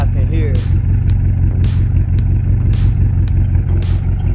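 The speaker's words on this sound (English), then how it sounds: "I love the way the exhaust sounds now" A 750 hp BMW X6M exhaust with resonated tips rumbles deep and steady at close range, with periodic throaty pulses, while a person talks over it.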